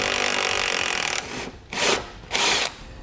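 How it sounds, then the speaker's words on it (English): A power tool removes a body mount bolt under the cab of a 2016 Chevrolet Colorado pickup, whirring loudly in one sustained run followed by two short bursts close by. "So we're going to go ahead and pull that bolt out as well."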